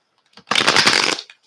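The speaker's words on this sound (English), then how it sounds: "I'm just going to shuffle a couple of times and then show you what comes out." A tarot card deck is riffle-shuffled once in a quick, close burst lasting under a second, with faint handling noises before and after.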